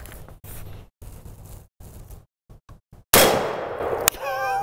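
A 350 Legend rifle fires a single loud shot at a steel target plate outdoors, followed a second later by a sharp metallic strike that rings on with a fading tone.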